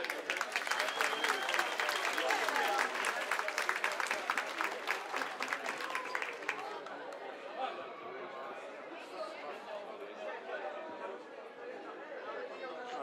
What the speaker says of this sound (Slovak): tento čin našich hasičov si zaslúži potlesk